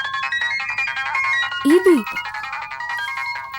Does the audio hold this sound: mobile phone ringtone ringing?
yes